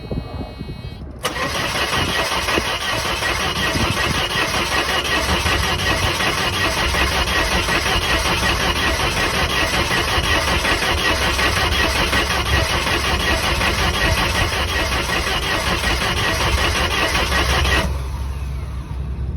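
A Mercedes car engine with fuel injector cleaner in the tank cranks loud and close, a long unbroken churning whir that never catches and runs.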